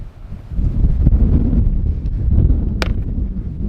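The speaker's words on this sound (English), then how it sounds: "hopefully the wind doesn't like blow my camera over at all" Strong wind buffeting a camera microphone outdoors at a skate spot, loud rumbling gusts that swell and dip with a few brief rustles.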